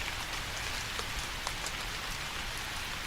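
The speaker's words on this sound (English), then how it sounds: "the sound of rain pounding against glass" Heavy rain beats steadily against glass, a dense, continuous hiss and patter with scattered louder drops, constant in level and no voices.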